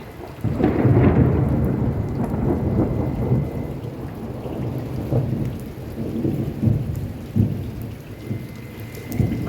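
Steady rain pours down outside with low rumbles of thunder rolling through, a dense continuous wash of sound with no voices.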